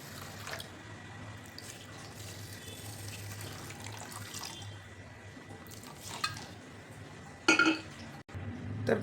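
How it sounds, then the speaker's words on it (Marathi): Water runs into a pressure cooker being readied for rice, a quiet, steady trickle with occasional splashes and clinks, heard close and alone. "तर कुकरमध्ये पाणी घेतलं आहे,"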